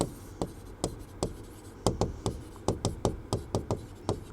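Handwriting on a board or paper comes through as a series of sharp tapping strokes, sparse at first and then in a quicker irregular cluster, close and alone with no talk.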